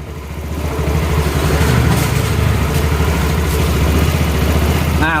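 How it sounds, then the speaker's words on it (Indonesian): Yamaha Xeon 125 motorcycle engine running at a steady idle, loud and close, its low throb continuing without a break. "Sekarang saya mau hidupin dulu motornya bang, biar bisa ngecek pengisiannya."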